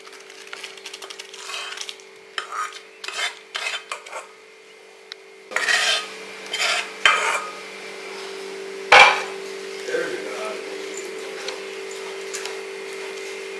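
Jaggery syrup poured into a pan of rice mixture for kaaparisi and stirred with a metal spoon, giving irregular scraping, clinking strokes against the pan over a steady low hum.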